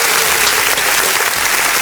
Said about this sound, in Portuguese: Uma salva de palmas aí, então, pra nós.